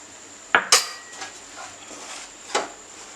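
Spoon clinks and scrapes while stirring a somas stuffing of fresh coconut and roasted gram in a bowl, with two sharp close knocks near the start, a softer one near the end, and quiet shuffling in between.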